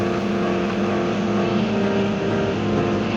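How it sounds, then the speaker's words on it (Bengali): Train running at high speed across the Tongi bridge, a steady loud rumbling roar with heavy wind rush that holds constant throughout, with no voices. "অনেক স্পিডে হচ্ছে, অনেক বাতাস, যে টঙ্গী ব্রিজ পার করতেছি, অনেক স্পিডে যাচ্ছে ট্রেনটা আর কি"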